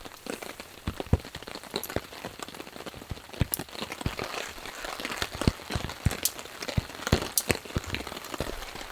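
Rain patters on a camping tent, a dense, irregular drumming of close drops with sharper individual hits scattered throughout, steady and moderately loud with no talking.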